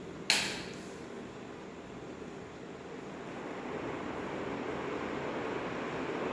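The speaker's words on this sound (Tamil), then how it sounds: "இப்போ ஃபேன் பார்த்தீங்கன்னா நல்ல ஸ்பீடாகவே ஓடுது." A repaired ceiling fan spins after being switched on, giving a steady whooshing, faintly rumbling hum that holds even and continuous after a sharp click at the start.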